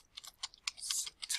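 Faint, irregular clicks of keys being typed on a computer keyboard, about a dozen light taps in a quick burst with no talking.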